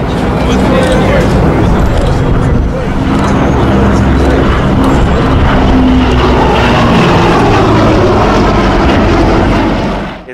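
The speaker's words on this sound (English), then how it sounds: "It had a very interesting exhaust, a very quiet exhaust feature of this airplane" A P-38 Lightning propeller aircraft passes with a steady, muted engine drone and broad rumble, fairly loud and continuous throughout, without a harsh throaty roar.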